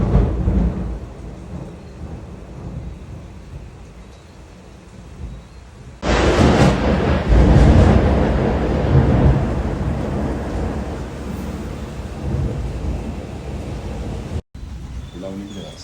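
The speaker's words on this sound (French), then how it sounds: "Et il pleut non-stop." Heavy rain from Storm Fiona pours down in a dense, loud roar that swells suddenly partway through and keeps going.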